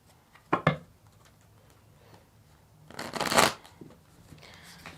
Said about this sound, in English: I do shuffle the entire way through the reading